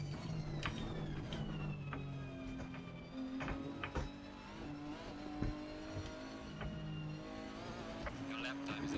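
A McLaren race car in the Assetto Corsa Competizione racing game, its engine whining steadily with pitch rising and falling through gear changes, alongside intermittent tire squeals and clicks, fairly quiet throughout.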